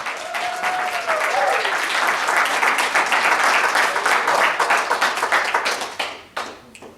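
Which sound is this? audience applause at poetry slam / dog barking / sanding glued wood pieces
audience applause at poetry slam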